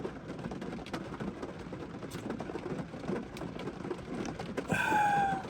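Steady rain patters on surfaces close by, with a brief chirp near the end.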